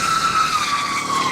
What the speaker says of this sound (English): Little burnout ski.